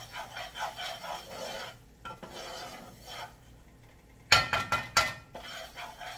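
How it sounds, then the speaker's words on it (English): Gravy being stirred in a frying pan, a soft scraping and sizzling that rises and falls with each stroke, then sharper clinks and scrapes of the utensil against the pan near the end, with no talking. "If you have to keep stirring it because you don't want it to get lumpy or whatever"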